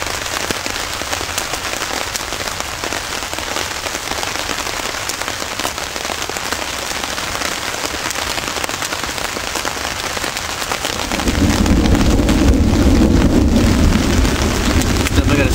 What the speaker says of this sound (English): Definitely got a storm rolling through today